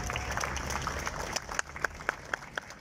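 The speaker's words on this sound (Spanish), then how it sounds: "un aplauso para ellos" Audience applause at a patriotic-month civic ceremony honoring Benito Juárez. It is moderate and somewhat distant at first, then thins into a few isolated, sharper claps near the end.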